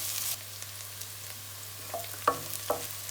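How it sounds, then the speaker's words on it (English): Garlic and ginger sizzling in a pan for keema aloo, a soft frying hiss broken by a few scraping stirs near the end, fairly quiet and close. "I'm going to add the garlic and ginger together. Then fry till everything is golden brown."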